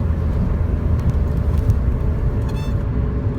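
A ruby red 1984 Porsche 928S accelerates, its engine a loud, dense, steady rumble close by with no talk over it.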